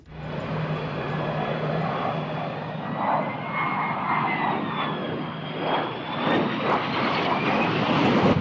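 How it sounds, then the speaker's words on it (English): A fighter jet rolls down a runway with flames spewing from its underside after the pilot ejects, a loud, steady engine roar and rushing whine that swells slightly toward the end. "The plane continues making its way down the runway with flames spewing out of the underside."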